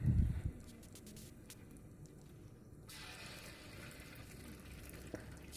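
Chicken pieces for pakodi fry in hot oil with a steady, faint bubbling sizzle, after a brief louder splash as they go in, heard close and alone.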